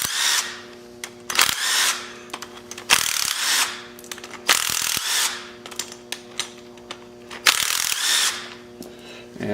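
A power ratchet backs out the 10mm bolts holding the camshaft plate on a 6.6L Duramax diesel engine during teardown: repeated short whirring bursts of a few seconds each, with brief pauses and clicks between them.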